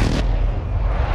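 A grenade explosion in Warzone gameplay, a single loud low boom with a deep rumbling tail that fades over about a second.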